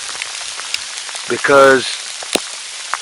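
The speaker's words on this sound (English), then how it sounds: "you hear that ticking? That's sleet and freezing rain." Sleet and freezing rain tick steadily against surfaces in a snowy outdoor setting, forming a constant patter with a few sharper clicks, briefly under a short spoken word.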